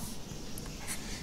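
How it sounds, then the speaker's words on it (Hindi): Pen or marker writing the letter F, a short continuous scratchy stroke heard close and alone over a steady hiss. "सो हम यहाँ लिखेंगे एफ।"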